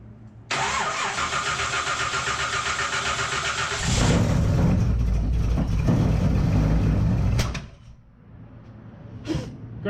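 A 1983 GMC C10 squarebody pickup engine cranking over with a steady starter churn, then catching and roaring louder before cutting back to quiet with a faint clank near the end.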